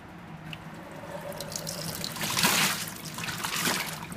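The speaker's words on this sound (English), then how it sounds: "And add just a little bit more water." Water is poured into a Danby portable washing machine, a soft steady trickle and splash that swells briefly in the middle and stays fairly quiet throughout.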